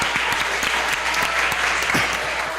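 A room of listeners at a youth conference gives loud, close applause, with sharp individual claps standing out from the dense, steady clapping throughout.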